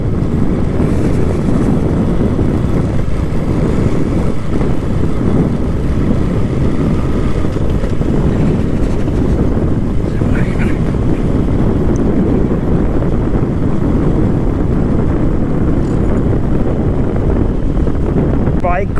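Steady loud rush of wind buffeting the microphone with a continuous low engine drone while riding a motorbike, sustained throughout with no clear breaks.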